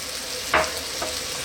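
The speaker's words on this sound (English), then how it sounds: "we're going to drop in now our coconut milk" Coconut milk hits a hot pan in a vegan dish, with one sudden splashy burst of sizzle over a steady background fry that then settles back to a soft hiss.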